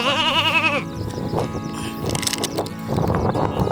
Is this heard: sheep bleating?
yes